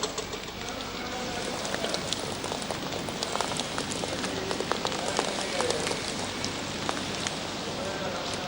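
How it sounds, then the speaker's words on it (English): Dense driving rain patters and splashes on concrete in a continuous wash of hiss and crackle, with a voice faintly underneath. "But the driving rain is still getting into the concrete."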